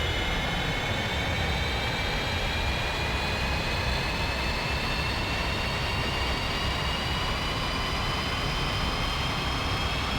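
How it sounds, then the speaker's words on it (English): An F-5E jet engine spools up in the DCS flight simulator game. It gives a steady, loud roar with rising whining tones as it starts, continuous with no voices. "Left engine started."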